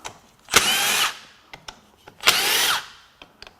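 Two whirring bursts from a power tool spinning loose the 10mm bolts on a Subaru TR580 CVT pump during a teardown, each about half a second long, with clicks and clanks of handling between and after them.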